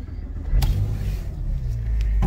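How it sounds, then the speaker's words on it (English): A car engine cold-starts in a parking lot, a low steady rumble that rises slightly as it idles, close and loud with no talk. "I'm going to do a cold start run."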